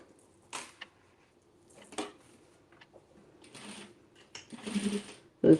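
A sewing machine stitches the seams of an oversized denim tote in short, separate bursts of rapid mechanical whirring, with brief clicks and quiet pauses between runs.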